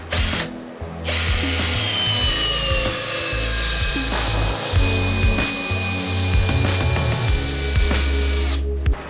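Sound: Vitals cordless drill-driver driving a 200 mm screw into wood

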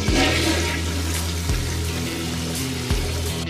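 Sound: toilet flushing in Skibidi Toilet video game

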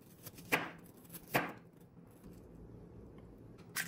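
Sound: knife chopping apple into thin slices and strips

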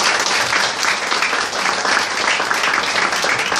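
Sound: audience applause at book store event

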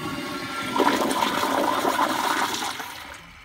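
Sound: Kohler Kingston urinal flushometer flushing

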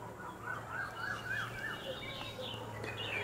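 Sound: birds chirping outdoors

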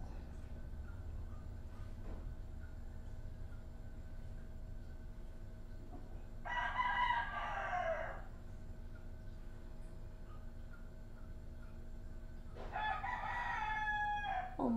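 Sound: rooster crowing

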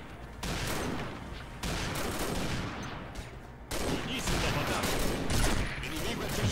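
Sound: gunfire in a video game

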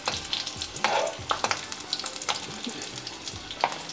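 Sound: stuffed chillies frying and being turned in a pan

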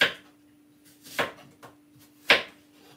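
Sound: cutting up a green apple

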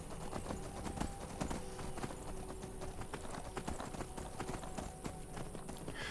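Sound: demonic horse hooves galloping in Skyrim video game

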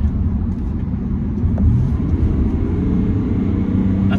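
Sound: Chevrolet 3.0L Duramax diesel truck accelerating at full throttle

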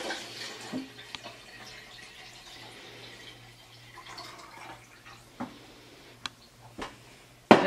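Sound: water poured from filter jar into jug

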